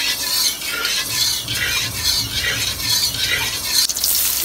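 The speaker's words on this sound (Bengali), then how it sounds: "যখন গরম তেলে পেঁয়াজ দিয়ে দিচ্ছে, এখন সুন্দর করে পেঁয়াজটাকে লাল লাল করে ভেজে নিবে।" Onions frying in hot oil in a home kitchen: a continuous close sizzling hiss rises and falls in rhythmic surges, as if the pan is being stirred, with a short clatter near the end.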